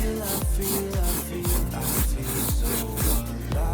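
A spot on a pre-sprayed carpet is lightly agitated during deep cleaning, making a rhythmic scrubbing rub in about seven even back-and-forth strokes, close and steady with no talking.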